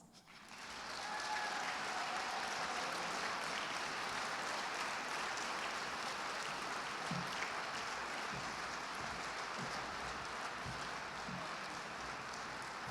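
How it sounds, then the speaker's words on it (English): An audience at a National Honor Society induction ceremony at Bishop Guertin breaks into sustained applause that swells quickly and holds as an even, dense roar of clapping for over ten seconds, with a few low thumps underneath. "And now you can applaud."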